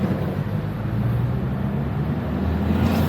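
A Mercedes-Benz W124 E320 engine idles steadily after a jump start, a low, even rumble with a faint whine over it and no talking.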